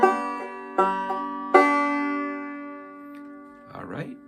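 Banjo picking the B section of Cripple Creek with a pinch: three sharp plucked attacks with ringing bright strings that decay slowly, then a brief low rustle near the end.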